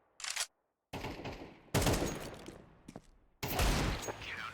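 Desert Eagle pistol fire in a Counter-Strike 1v1 match: loud, close shots in short bursts, separated by brief silences.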